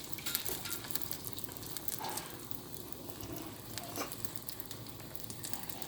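Slices of bánh tôm frying in a pan of hot oil, a steady close sizzle with crackling pops, soft and continuous with no voices.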